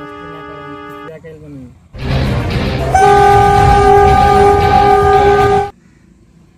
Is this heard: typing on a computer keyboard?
no